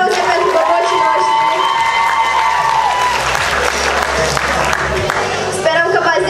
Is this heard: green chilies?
no